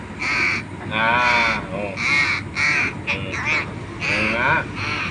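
A young crow that fell from its nest and is being cared for gives loud, close, raspy caws in repeated bursts, with people talking quietly nearby.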